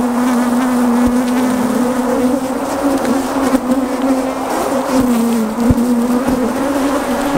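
Dense, steady buzzing of many bees close by on a hive frame of capped honey, a continuous droning hum with no voices.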